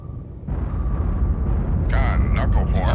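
Depth charges detonate around a submarine in the naval warfare game Cold Waters: a heavy, rumbling blast sets in and stays loud, with sharper bursts and ringing tones layered on top toward the end.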